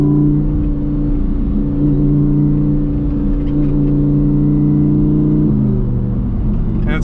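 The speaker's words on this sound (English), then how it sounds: "it's crazy because you have that V10 just roaring right behind you" A Lamborghini Huracan Evo's V10 roars steadily and loudly from close by while the car drives down a country road, its engine tone shifting as it changes pace near the end.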